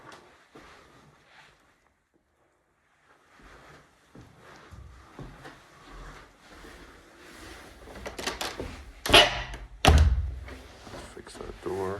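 An old door in a 180-year-old farmhouse is shifted with soft scuffs and then shut with two sharp, close thuds near the end, while people talk quietly in the room.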